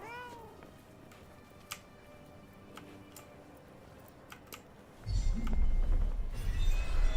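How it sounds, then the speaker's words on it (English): A cat in the video game Forspoken gives a few short meows near the start over light ticking, then a louder rumbling game ambience swells in for the last couple of seconds. "I have a strange feeling that cat wants us to follow it."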